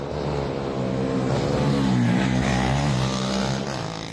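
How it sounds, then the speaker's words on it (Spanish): Motorcycles fitted with resonators to make them louder rev on a Colombian neighborhood street, a loud, sustained engine roar that swells and climbs in pitch midway, then eases back. "que le colocan a sus motos para que hagan más ruido"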